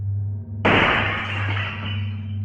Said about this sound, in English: The sound of glass shattering had me turning to the back door